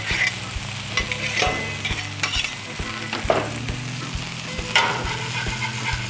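Smash burger patties sizzle loudly and steadily on a Blackstone griddle, with sharp metallic scrapes and knocks from a spatula as they are flipped, and a low hum underneath.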